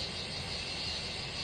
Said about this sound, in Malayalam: ഇത് മൊത്തം കരയുന്ന ചീവീടാ